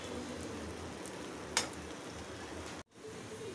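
Sliced onion fries in oil for a prawn and yardlong bean stir-fry, a quiet, even sizzle with one brief clatter midway before the sound cuts out abruptly and resumes faintly.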